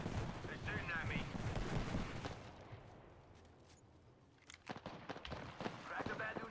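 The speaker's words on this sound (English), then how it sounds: "Enemy right here. They're shooting at me." Gunfire in a shooter video game pops and rattles densely, with heavier blasts mixed in. It fades to a quieter stretch midway, then the shots pick up again, with a voice speaking at times.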